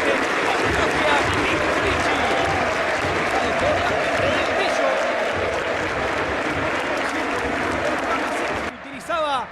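Stadium crowd at a River Plate versus Argentinos Juniors Superliga football match applauding a coach greeting from the bench, a dense continuous roar of clapping and crowd noise under a commentator's voice, dropping away briefly near the end.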